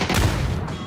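A frag grenade goes off in a PUBG esports match, a single loud close blast with a brief rumbling tail.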